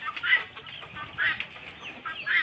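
Farm chickens clucking close by in a series of short, bright, nasal bursts roughly every second, with a soft rustle of background between calls.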